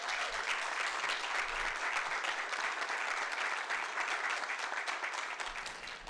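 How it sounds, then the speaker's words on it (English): Sustained audience applause for student award winners at a history society awards evening, dense even clapping from a large crowd throughout, fading slightly at the end. "let's give another round of applause for our student award winners"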